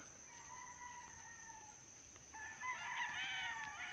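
Chickens and roosters in a poultry pen at a Filipino farm, with steady clucking and a rooster crowing loudly near the end over a constant high hum.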